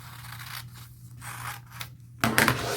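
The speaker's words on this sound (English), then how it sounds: "I'm going to trace around it and cut it out." Scissors cutting out a paper or fabric pattern traced for a patchwork coat, a few close rhythmic snips and rustling slides of the blades, ending in a louder crisp cut, no talking.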